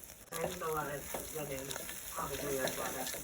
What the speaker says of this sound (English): you put the shrimp heads and tails, if you have any kind of shells, and you're slowly gonna saute that